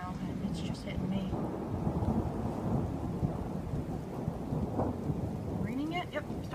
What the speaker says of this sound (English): Yep, it's starting to rain now.